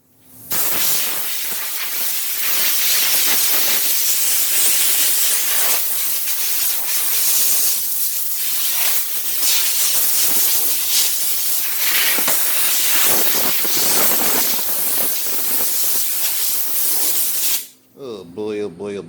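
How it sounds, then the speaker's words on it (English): A long, steady WD-40 aerosol spray on a 1970s Sears Suburban SS16 mower deck plate hisses loudly and continuously for many seconds, then cuts off abruptly near the end. "spray it with some WD-40"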